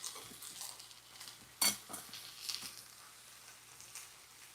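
Tofu skin dumpling filling of mushrooms and tofu sautés in a pan with a faint, steady sizzle, punctuated by light stirring scrapes and one brief clatter of utensil on pan.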